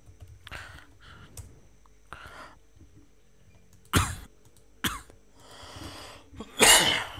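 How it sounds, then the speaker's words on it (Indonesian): Several coughs ring out at irregular intervals, a few sharp and loud, with quiet clicking sounds in the pauses between them. "agak batuk karena cuaca juga kurang begitu baik sekarang"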